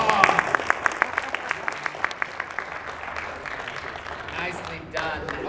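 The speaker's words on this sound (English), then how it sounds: "Give a round of applause." Workshop audience applauding a group of performers at an acting session, a burst of distinct claps that thins out over a few seconds, with voices talking over it near the end.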